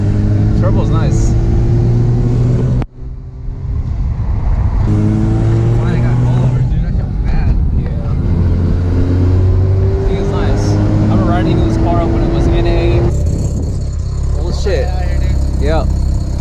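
A freshly installed turbocharged car engine revs loudly and steadily in a garage, with the turbo's whine riding over the low engine drone for most of the time and a brief dip near the three-second mark.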